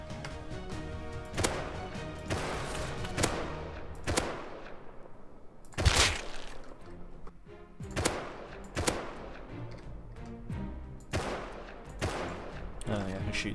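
Gunfire in the survival game Rust: a series of sharp, loud shots spaced irregularly across the span, some in quick pairs, with a heavier blast near the middle.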